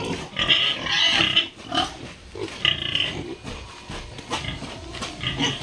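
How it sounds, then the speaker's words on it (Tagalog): Several pigs at feeding time grunt and squeal up close in a farm pen, a busy overlapping chorus of snorts and oinks rising and falling with no people talking. "Ganito kahirap mag-alaga ng baboy."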